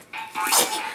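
A single short sneeze bursts out close by, quick and sharp, lasting under a second.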